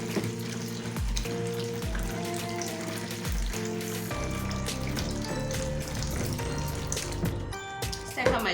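Hot water poured into a bowl for chapati dough, a continuous splashing and trickling with brief ringing clinks, close by and fairly loud throughout.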